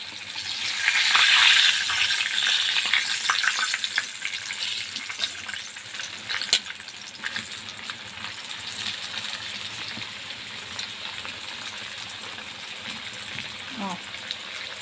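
Breaded chicken cutlets for pané frying in hot oil give off a continuous bubbling sizzle that is loudest early on and then settles into a steady crackle, close by, with a voice speaking briefly near the end.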